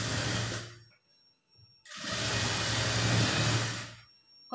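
Sewing machine running a straight seam on a blouse, two loud close bursts of whirring stitching separated by a brief pause.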